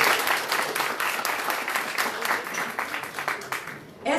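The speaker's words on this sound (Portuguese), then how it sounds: "Outras palmas para ela" An audience at a political talk in Brasília on pension reform gives a burst of dense, lively clapping that runs steadily and tapers near the end.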